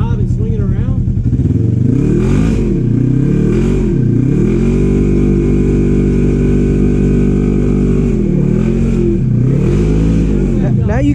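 An off-road vehicle crawling a wooded trail at Windrock in four-wheel drive, its engine droning loud and close with repeated rises and dips in revs, mixed with clatter and voices talking throughout.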